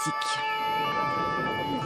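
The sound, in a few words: police car sirens wailing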